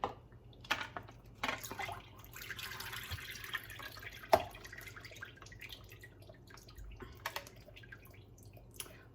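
Black beans from a can rinsed under a running kitchen tap, water splashing and dripping steadily with a few louder knocks and clatters, no talking.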